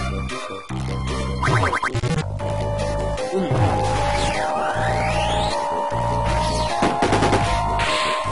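Bomb attacks hitting enemies in a Mother 3 battle, with a string of loud, dense game blasts, zaps and rapid bursts over steady synth music, no voices.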